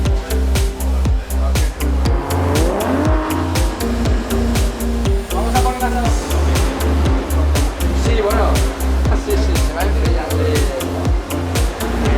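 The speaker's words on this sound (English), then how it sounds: "driving the GT4 to do the parade lap" GT4 race car on a parade lap at a circuit, its engine droning steadily with rhythmic pulsing as it passes, fairly loud and continuous, with people talking over it.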